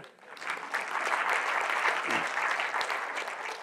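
Audience applause at a talk, a steady dense clapping that builds within the first half second and holds at an even level for several seconds, filling the room with no voices over it.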